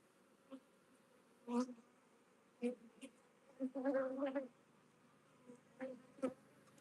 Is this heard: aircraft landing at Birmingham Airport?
no